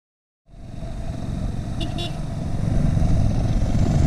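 Motorbike engine starting up as riders set off on an 800-kilometre outback journey, a steady close rumble that builds gradually louder, with voices faintly beneath.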